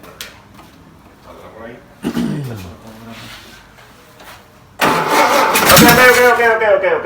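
A rare 1959 Volkswagen Beetle engine cranks after sitting over 40 years, sputtering attempts then catching into a loud rough running roar, with people talking nearby.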